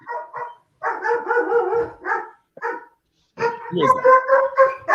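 Dogs bark in short bursts during a movie quiz game, several sharp woofs and yips close by, with people talking over and between them.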